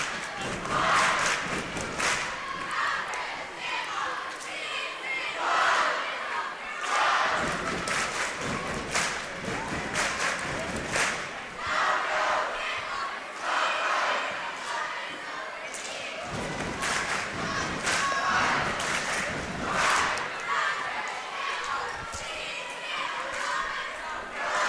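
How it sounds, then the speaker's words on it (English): Crowd noise from a girls basketball sub-state championship in a gym, a steady roar of cheering and applause across the whole stretch, with swelling bursts and occasional thuds from the court beneath it. "And a lot of crowd involvement here in the Den tonight."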